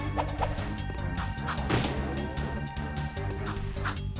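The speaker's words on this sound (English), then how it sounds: "I'm smashing buttons with my head." Repeated whacking thuds as Jak smashes buttons with his head in Jak 2, with several dull hits over steady game music and ambience.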